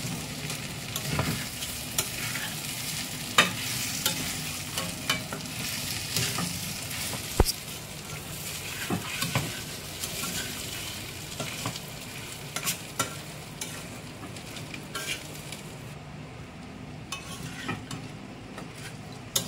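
Rice and grated coconut fry in oil in a kadai for parwal pulao, a continuous close sizzle with frequent scraping and stirring knocks of a spatula against the pan, no talking.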